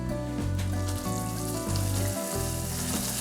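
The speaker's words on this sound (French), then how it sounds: "Mon caramel est maintenant à 180 degrés. Je vais y ajouter délicatement mon beurre." Butter hitting caramel at 180 degrees sizzles loudly and steadily, a dense frying hiss with a low rumbling bubbling underneath, continuous and close throughout.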